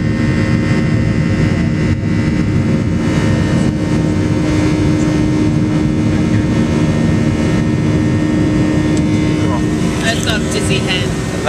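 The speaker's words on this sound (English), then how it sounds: "It's an hour plane ride" Steady airliner cabin noise fills the whole stretch: a constant broadband jet-engine and air-handling roar during an hour-long flight, with a few faint clicks near the end.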